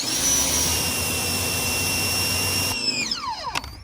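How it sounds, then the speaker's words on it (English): A Ryobi 1600 PSI electric pressure washer running and spraying, a loud steady motor whine with a high hiss that suddenly drops and winds down in pitch near the end, close and alone with no voices. "This is a Ryobi 1600 PSI electric, very easy to set up"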